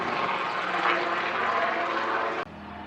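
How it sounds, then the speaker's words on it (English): A helicopter passes over a ranch, its broadband rotor and engine roar steady and fairly loud overhead before cutting off abruptly near the end, with no voices. "There's a helicopter somewhere right here."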